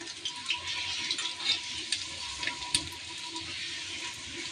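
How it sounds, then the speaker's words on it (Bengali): Pumpkin leaves fry in a pan until crisp, giving a soft, continuous sizzle with small crackling pops, fairly faint and heard alone. "একটু আমি মচমচে করে ভেজে নিচ্ছি"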